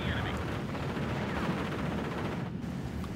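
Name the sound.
mortar fire in the video game Steel Division 44 Normandy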